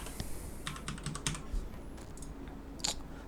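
Scattered, uneven keystrokes on a computer keyboard, a new username and password being typed, close and fairly quiet, with short pauses between bursts and no talking.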